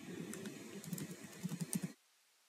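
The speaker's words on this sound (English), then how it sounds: "Now type in your password." A computer keyboard clicks as a password is typed, a quick, soft run of keystrokes that speeds up near the end and stops abruptly, with no talking.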